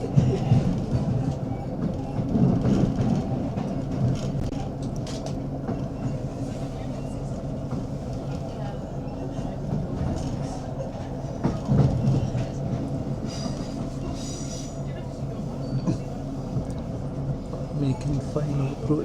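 A ScotRail Class 156 diesel train runs on the line through the Nith Valley toward Glasgow Central, giving a steady loud rumble with rail clatter throughout. Speech can be faintly heard over it.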